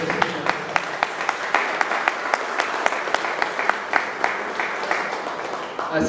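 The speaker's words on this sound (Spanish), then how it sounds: "Retribuimos con fuertes votos de aplauso nuevamente." Steady applause from a conference audience thanking engineer Miguel Ceballos, dense continuous clapping with some sharper individual claps standing out, fairly distant, sustained for several seconds with a faint murmur of voices underneath.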